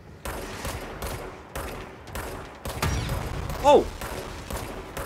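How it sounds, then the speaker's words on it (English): Rapid bursts of gunfire in the video game Control, repeated loud volleys in quick succession with a short break between them, and a player's voice exclaiming over the shooting. "I shot that dude so many times and he didn't die"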